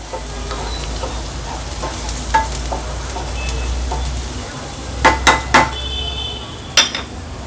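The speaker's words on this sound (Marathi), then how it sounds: "हळद ॲड केली का थोडंसं परतून घ्यायचं आहे आपल्याला कांदा" Onion with turmeric sautéing in a pan for an eggplant curry in green masala, a low steady sizzle with a handful of sharp metallic clinks from a spoon stirring against the pan.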